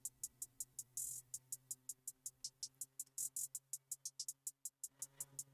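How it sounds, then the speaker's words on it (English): Rapid trap hi-hat pattern, a steady stream of crisp ticks with a few brief rolls and louder accents, over a faint low sustained tone; no talking. "I'll just show you the hi-hats first."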